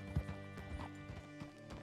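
Horse hooves clip-clop at a walk in Red Dead Redemption 2, a few soft irregular steps close by over a steady background hum, with no one speaking.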